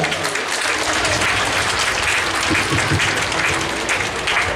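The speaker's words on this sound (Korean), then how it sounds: "빈정훈 본부장님을 여러분 따뜻한 박수로 환영해 주시면 대단히 고맙겠습니다." A lecture audience at a youth vision concert gives a warm, continuous round of clapping to welcome speaker Bin Jeong-hun, loud, dense and steady throughout without pauses.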